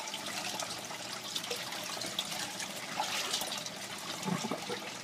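Water trickles and gurgles steadily as an aquaponics bell siphon drains, with a low burbling surge near the end as it sucks in air and cuts off.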